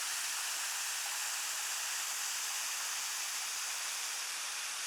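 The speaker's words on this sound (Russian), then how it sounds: "Водопад." A jungle waterfall on Koh Phangan island, Thailand: a continuous, even rush of falling water with a bright hiss, steady and fairly close, with a faint low hum in the first half.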